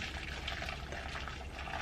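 Liquid pours slowly and steadily through a strainer, a continuous soft wash of trickling sound with no pauses and no voices over it.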